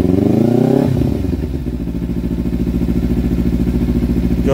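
A Kawasaki Ninja 300 motorcycle engine revs up sharply, then settles into a loud, rapid, rhythmic throbbing idle close by.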